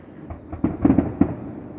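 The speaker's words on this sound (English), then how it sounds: "And that is what I call a real fireworks show." A fireworks show at the Nowra Show, heard from a house some distance away, gives a quick cluster of muffled, low thuds and pops that echo softly, with no talking.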